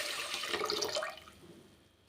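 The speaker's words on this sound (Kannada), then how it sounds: "ಇದಕ್ಕೆ ನೀರು ಹಾಕಿ ನೆನೆಯಕ್ಕೆ ಇಡ್ತೀನಿ." Water poured into a vessel of washed rice to soak for idli batter, a brief splashing gush that fades to a quiet trickle within about a second, heard alone.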